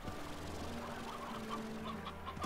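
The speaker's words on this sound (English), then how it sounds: "And a lot of chickens." Chickens cluck steadily in Slime Rancher, a run of soft, close clucks over a constant low hum of game ambience, with no talking.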